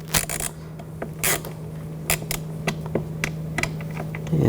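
Screws being started into the front exterior door handle reinforcement of a 2000-2006 BMW X5, heard as close, scattered clicks and brief creaks with soft mechanical ticking over a steady low hum.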